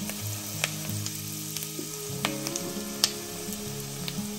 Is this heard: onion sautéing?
yes